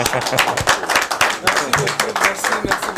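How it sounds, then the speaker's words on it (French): Audience clapping and cheering at a press conference for a gospel singer's concert in Portland, Maine, a dense steady round of applause with voices mixed in throughout. "j'aimerais qu'on acclame pour eux"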